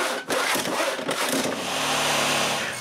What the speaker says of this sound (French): je peux couper toutes les planches que j'ai besoin à la même longueur